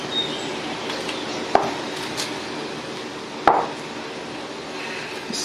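Green plantains are peeled with a knife for Garifuna hudut, giving two sharp, isolated knocks about two seconds apart over a quiet kitchen background.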